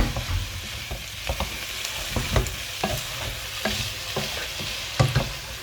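Flour is stirred into sizzling beef bourguignon in a pot, with steady soft frying crackle beneath intermittent scraping and clinking strokes of a spoon against the pot, close and fairly quiet.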